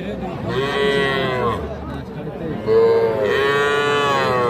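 A young Gir heifer calf lets out two long, loud moos separated by a short pause, with faint background murmur.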